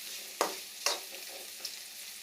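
Fried rice sautéed in a pan gives a soft, continuous sizzle, broken by three distinct scraping stirs of a spatula. It is close and fairly quiet, with no talking.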